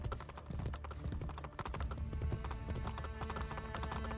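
Horse hooves clip-clop in the Assassin's Creed Brotherhood video game, a quiet, steady stream of hoof taps mixed with faint background game sound.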